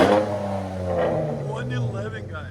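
A 2016 Dodge Charger GT with a 3.6L V6 and Flowmaster Super 10 mufflers revs close by, its exhaust note rising and falling in deep, rumbling surges across the short stretch, with a voice talking over it.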